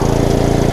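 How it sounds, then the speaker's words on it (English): A lawn mower engine running loud and close, a rough rapid steady putter with no voices, from a mower that may have a bent blade. "Did they do something to this lawnmower I'm worried about?"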